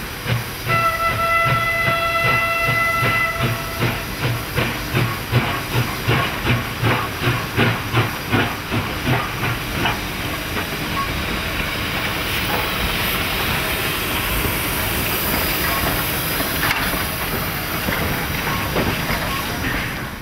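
Chinese working steam locomotive on a steel production railway hisses loudly and steadily, with rhythmic chuffing beats through the first half and a brief whistle tone near the start.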